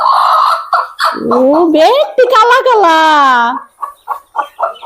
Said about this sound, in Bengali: এই মুরগি ড্যাম বাতে দিছিলাম এই মুরগিটার ছাও তোলাইছে